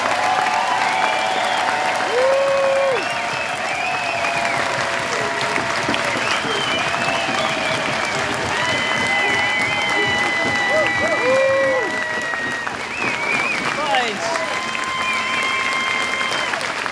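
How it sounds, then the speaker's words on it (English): Outdoor rally crowd applauding truckers of a convoy, loud continuous clapping mixed with cheers and whistles, holding steady throughout with scattered voices in the crowd. "Let's give them a round of applause."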